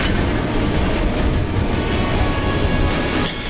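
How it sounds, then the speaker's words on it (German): Trains rush past in the Final Fantasy 7 Remake video game, a loud, dense, close rumble and roar with rattling rail noise that holds steady before easing slightly at the end. "die Züge sind noch nicht komplett angehalten, wie es aussieht. Im Gegenteil, es fahren immer mehr"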